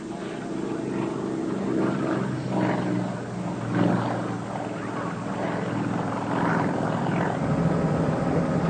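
A helicopter accompanying an aerobatic display flies with a steady, loud rotor and engine drone that rises and falls slightly, heard from on board with no talking.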